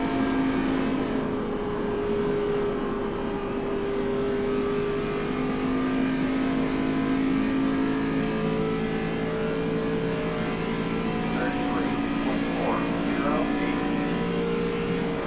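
Race car engines idling and revving steadily in a racing game lobby ahead of an ARCA car race, a continuous layered motor drone with shifting pitch and a few brief higher revs near the end, no talk.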